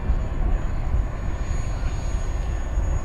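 An FMS 1700mm Corsair V3 radio-controlled warbird on a 6S battery with a new propeller passes fast overhead, its electric motor and prop giving a steady, loud droning whine outdoors, no talking.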